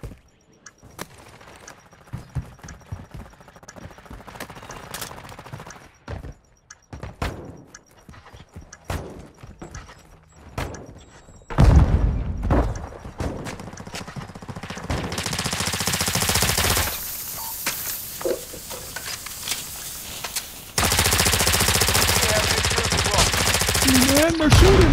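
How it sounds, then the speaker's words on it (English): Gunfire in Call of Duty Modern Warfare II, a Search and Destroy match on Punta Mar: sparse cracks and short bursts at first, then louder, dense sustained automatic fire and blasts over game noise. "They're shooting me."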